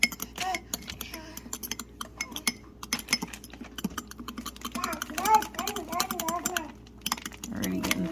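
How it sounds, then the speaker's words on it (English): Gelatin is stirred into a lemon blueberry lasagna mixture in a bowl, a run of quick clinking and tapping of a utensil against the bowl, with a voice and talking over parts of it. "I'm gonna stir it up."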